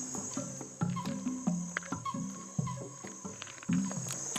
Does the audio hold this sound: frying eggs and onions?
no